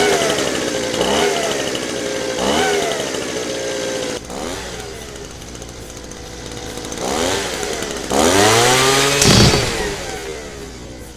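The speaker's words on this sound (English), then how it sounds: "take this go-kart down to MRI" A go-kart's small engine is inside a hospital, revving loudly in repeated bursts, its whining pitch climbing and falling with each throttle blip, the last surge the strongest, with no talking.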